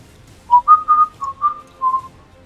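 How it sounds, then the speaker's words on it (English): A person whistles a short tune of about six clear, bright notes in a steady rhythm, close and fairly loud, alone over faint room noise during a tabletop wargame session. "Sorry for whistling."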